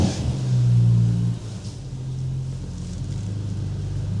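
A BMW E36 M3 engine with an aftermarket exhaust gives a deep, brief rev that drops back to a low rumbling idle, heard close by with some wind noise.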